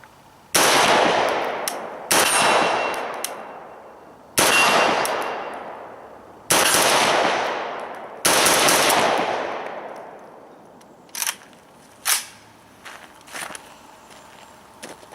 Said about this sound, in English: now we're going to go ahead and shoot this Arsenal Arms gun.